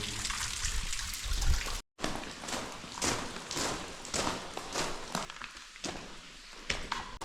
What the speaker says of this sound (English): There's a little crack in the wall, the water's coming through.